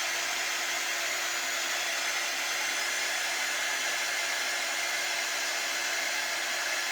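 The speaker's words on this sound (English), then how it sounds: "I am just going to dry this. And I'm just drying in between because I don't want my transfer to smudge this." A hair dryer blows steadily on a craft sign transfer, a constant loud close whooshing hum with no pauses or talking.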